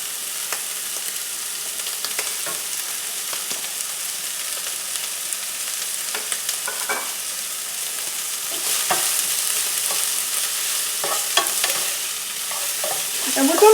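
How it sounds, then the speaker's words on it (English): Mushrooms and spices sauté in a hot pan with a steady bright sizzle and occasional scrapes and clacks as they are stirred, close up and without talking. "And we're going to saute this"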